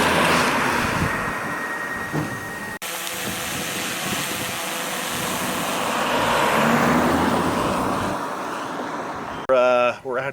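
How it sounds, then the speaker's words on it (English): A low-powered 4-cylinder Honda Civic drives past with a steady engine drone, road roar and wind buffeting on the microphone, swelling slightly midway before a brief burst of rustling at the end. "We're out here trying to film a high-speed car chase type footage with a low-speed 4-cylinder Honda Civic"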